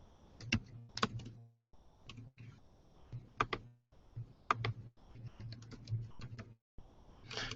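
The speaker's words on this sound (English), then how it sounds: "I could type in spaghetti near Hotel Roanoke" Someone types a Google search for spaghetti near Hotel Roanoke on a computer keyboard: bursts of close, crisp key clicks in quick irregular runs, separated by brief pauses.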